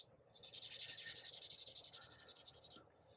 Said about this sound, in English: I'm gonna just take my rough sandpaper pad here